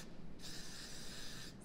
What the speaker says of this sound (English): So we're going to go back to the hairspray one last time for this side.